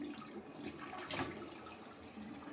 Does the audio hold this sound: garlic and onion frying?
no